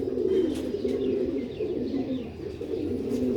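Sialkoti breed pigeons coo continuously in low, throaty warbling calls, several birds overlapping in a steady murmur close by, with no speech.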